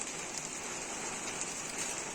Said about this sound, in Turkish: Seramın üzeri cam olduğu için ses gelebilir. Yağmur sesi.